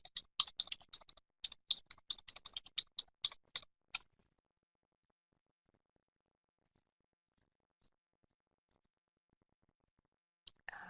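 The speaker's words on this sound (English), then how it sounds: "I'll just type it into the chat bar" Typing on a computer keyboard into a chat bar: a quick run of crisp, close key clicks for about four seconds, then near silence, with a couple more taps at the very end.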